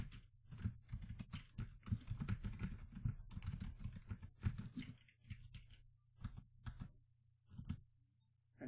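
A computer keyboard is typed on close up in quick, irregular clicks and clacks, with a few pauses between short runs of keystrokes.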